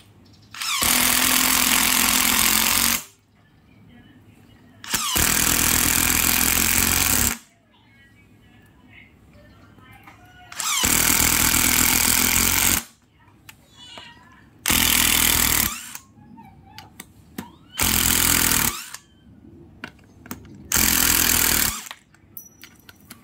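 DeWalt 12V impact driver running in six loud bursts of roughly one to three seconds each, separated by quieter gaps, with the hammering rattle of the impact mechanism close to the mic.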